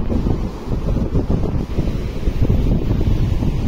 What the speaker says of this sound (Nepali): खतरा हावा चलिरहेको छ